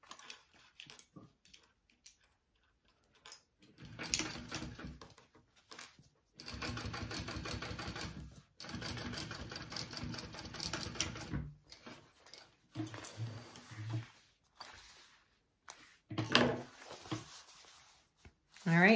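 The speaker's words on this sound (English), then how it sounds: "we are going to top stitch along this gusset piece here" A sewing machine runs in several bursts of rapid stitching, topstitching along a fabric bag gusset, with pauses between runs, quiet handling sounds and a dog's faint whimpers at times.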